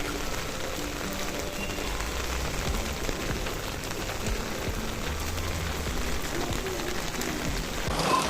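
Steady rain falls outdoors during a monsoon morning, a continuous broadband hiss of drops on surfaces with no speech, holding an even level throughout.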